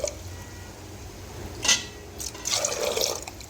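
Water pours into a pressure cooker holding peas, with a brief splash early and then a steadier pouring gurgle near the end, fairly quiet and close.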